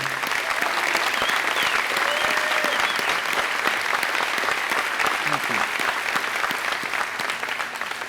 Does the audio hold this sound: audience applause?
yes